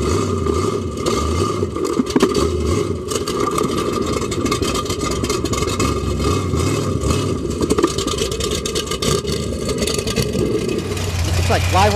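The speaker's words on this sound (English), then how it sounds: "the noise and the destruction of these monster trucks crushing across these cars" Heavy monster truck engines rumble and rev continuously with crunching, clattering impacts as the trucks drive over cars at an off-road truck show, loud and close throughout.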